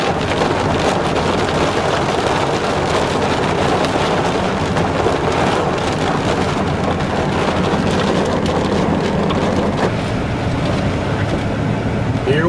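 Heavy rain pours down steadily in a thunderstorm, a dense continuous roar of falling water with low rumbling underneath, close and loud throughout.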